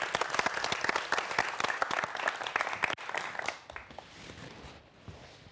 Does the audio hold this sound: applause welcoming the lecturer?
yes